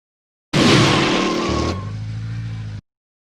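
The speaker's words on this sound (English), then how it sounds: "I like the tire squeal." A designed car sound effect with tire squeal: a loud burst of engine and screeching rubber cuts in abruptly, then drops to a lower, droning engine tone before stopping dead.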